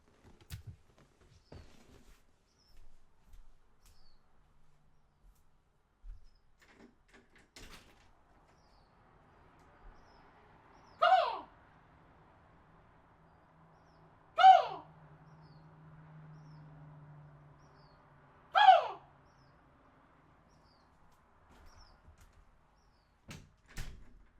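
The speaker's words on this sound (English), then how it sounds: "you guys hear that bird outside?" A bird calling outside heard from indoors: three separate descending calls, evenly spaced several seconds apart, moderately loud against an otherwise quiet room.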